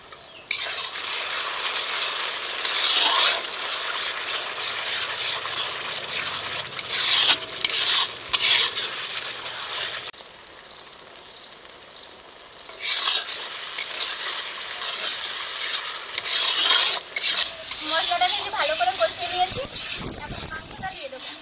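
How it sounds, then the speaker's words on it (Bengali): Spiced masala with sour yogurt being sautéed in a pan for chicken dum biryani, giving a steady sizzle with bursts of stirring and scraping, while people talk over it. "এখন টক দই দিয়ে আর একটু ভালো করে কষিয়ে নেবো"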